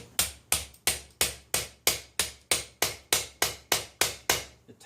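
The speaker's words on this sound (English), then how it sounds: "Pry that off here, or just tap it off with a hammer" A hammer taps repeatedly on the top of a Rochester Quadrajet carburetor pulled from a 1979 Chris Craft boat with a 350 V-8, giving about fourteen sharp, evenly spaced knocks at close range with no talking.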